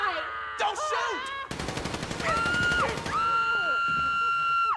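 Bursts of gunfire from Grand Theft Auto 5 Online during a heist vault scene, loud, rapid and stuttering, mixed with game music and other effects.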